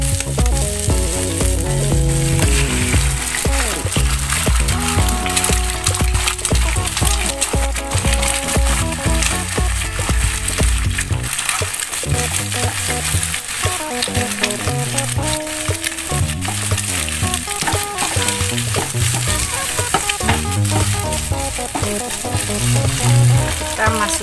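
Eggs frying in a pan along with chili: a loud, continuous close sizzle with stirring clatter throughout.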